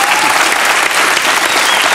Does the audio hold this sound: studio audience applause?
yes